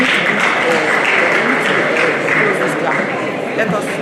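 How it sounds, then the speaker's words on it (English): Audience applause at a conference on professionals in politics and nation building, a dense, steady wash of clapping that stays loud and even throughout, with voices mixed in under it. "Please, let's give him a round of applause. Let's clap for him."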